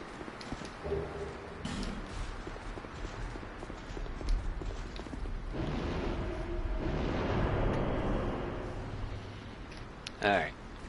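Horses gallop in the video game Dark Souls II, a steady clip-clop of hooves running under loud, busy combat noise, with a sharp impact near the end.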